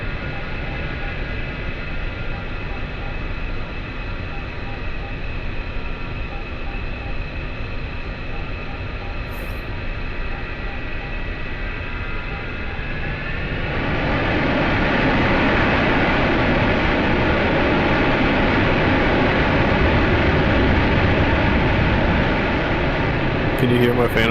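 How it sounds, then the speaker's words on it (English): F-4 Phantom jet engines roar during takeoff in the DCS World flight simulator, a steady broadband rumble that swells noticeably louder about halfway through and holds at full power. "Can you hear my Phantom taking off?"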